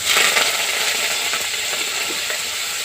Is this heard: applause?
no